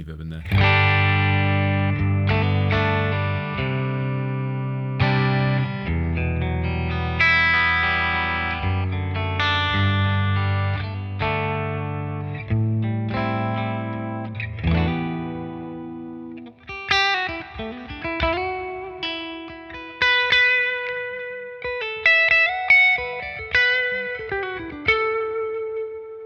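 An electric guitar plays chords and then single picked notes, its tone washed in reverb and echoing delay, with no voices over it.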